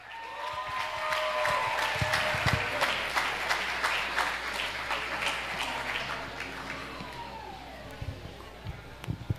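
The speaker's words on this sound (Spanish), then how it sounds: "Recibamos con un fuerte aplauso" Loud, sustained church congregation applause with dense clapping throughout, tapering slightly toward the end, with some sirens or tones sweeping beneath.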